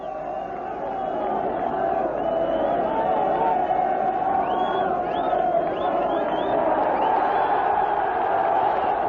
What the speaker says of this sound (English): the big crowd was in good voice to welcome both teams